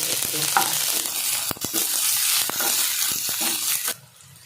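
Oil sizzles and crackles steadily as chopped large onions fry in a pan, with a few stirring clicks and a brief drop in the hiss near the end.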